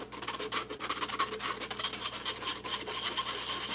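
Brownie bites are scraped out of a baking pan in a steady series of close, rasping strokes of a utensil against the metal, with no speech.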